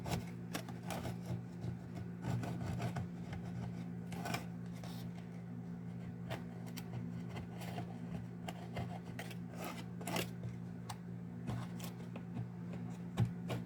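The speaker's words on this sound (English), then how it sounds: "So I let the wax dry. And you just scrape it off." Dried wax being scraped off a surface, a quiet, irregular series of short rasping strokes over a steady low hum.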